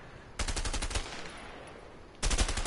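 Gunfire in the cooperative action game A Way Out: a rapid burst of several shots, a short pause, then another burst starting at the end, loud and close with no talking.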